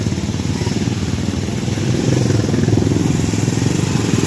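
Motorcycle and tricycle engines drone steadily at close range, the low throbbing rumble swelling slightly louder partway through, with no talking.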